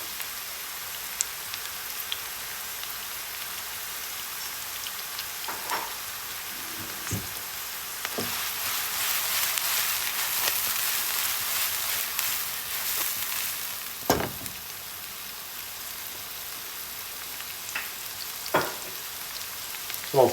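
Fresh chilli fries in a pan of tuna sauce for agnolotti. A continuous, even sizzle like light rain fills the clip, broken by a few sharp clicks and taps from the pan.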